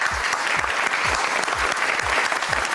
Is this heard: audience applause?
yes